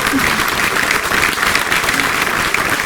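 An audience gives steady, loud applause at the proclamation ceremony of the Fiestas de las Nieves in La Rama, Agaete, a dense and even clapping that carries on without pause.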